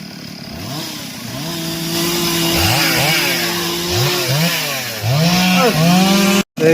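A chainsaw cuts a tree in a village, its engine revving loud and close, with the pitch rising and dropping repeatedly as the blade bites into the wood.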